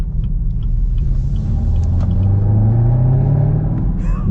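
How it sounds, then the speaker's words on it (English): A deep, throaty exhaust rumble from a manual Camaro ZL1 muscle car burbles steadily and loudly up close, swelling slightly as the revs climb, with no voices over it. "And it just gargles out of the exhaust."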